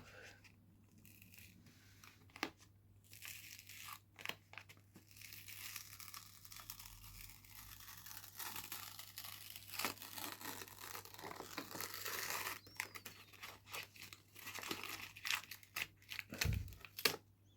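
Packaging of a Blake's 7 Series 1 collection box set being opened by hand, with steady crinkling, tearing and scraping of plastic and cardboard, close and fairly quiet, no voices.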